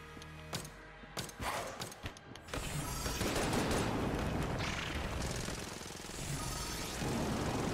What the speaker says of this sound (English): murder him with the triple gun